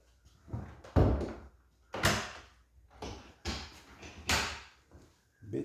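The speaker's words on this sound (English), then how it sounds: "Stop slamming that fucking door." A door bangs shut again and again, about six heavy thuds at irregular intervals roughly a second apart, close and loud, with quiet gaps between the slams.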